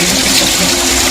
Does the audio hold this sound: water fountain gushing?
yes